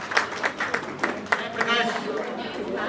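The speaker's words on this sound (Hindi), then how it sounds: "इन्होंने जोरदार ताली बजा के" Audience applause at a Jain community introduction and honouring ceremony in Delhi's Yamunapar area, with sharp, uneven handclaps from a modest crowd that thin out under a speaking voice.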